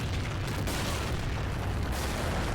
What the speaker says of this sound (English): They're about to engage the field artillery.